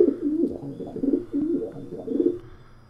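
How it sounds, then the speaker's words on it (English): A pigeon in the video game Ultimate Bird Simulator coos in soft, low, rolling phrases, repeated three or four times in a clear, close rhythm with nothing else heard. "Sounded like a pigeon."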